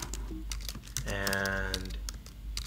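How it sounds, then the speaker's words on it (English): Someone types a password on a computer keyboard, with a short run of close, quick keystroke clicks over a steady background hum. "type in my password"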